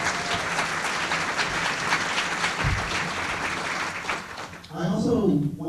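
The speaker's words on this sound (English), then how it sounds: "let's give the LMV Council team a big round of applause" A luncheon audience claps steadily for the Leadership Mountain View council team, a full round of applause that thins near the end as a voice starts speaking over it.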